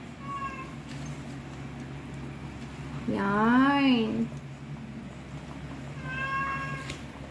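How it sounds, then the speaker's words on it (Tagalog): A pet cat gives a long, rising-and-falling meow in a home kitchen, with a couple of shorter, fainter meows before and after and a person briefly speaking over steady background noise. "Ingay ng aking pusa."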